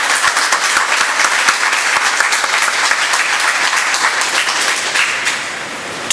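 Sustained applause from an audience at a media conference on a court judgment, dense and steady clapping throughout, loud and close, tapering slightly at the end.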